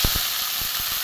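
Ground spice paste of onion, tomato, garlic and ginger sizzling in hot oil: a brief, steady bright hiss with a few soft crackles, close by.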